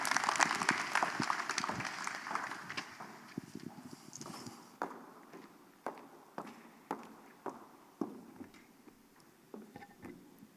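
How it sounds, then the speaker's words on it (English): An indoor audience applauds to welcome a team at a morning event, a dense burst of clapping for about four seconds that thins into scattered claps and light footstep-like taps. "A round of applause, please."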